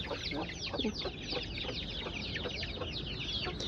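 A flock of chickens clucks continuously outdoors, with many overlapping short calls at moderate distance over a constant background hiss.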